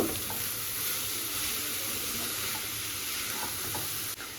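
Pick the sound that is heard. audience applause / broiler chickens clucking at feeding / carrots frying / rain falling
carrots frying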